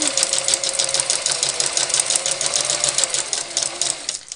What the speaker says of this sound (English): so I'll just continue sewing along here where I left off from